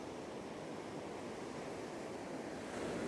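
Ocean surf rolls onto a shore in a steady, close wash of breaking water, broad and hissing with a slight swell near the end, with no voices.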